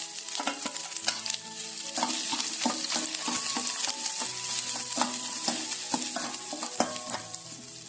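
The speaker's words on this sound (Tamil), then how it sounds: "லேசாக ப்ரௌனாக வர வரைக்கும் வதக்கிக்கலாம்." Chopped shallots sautéing in oil with mustard seeds and curry leaves, a steady sizzle broken by repeated scraping and clattering stirs against the pan.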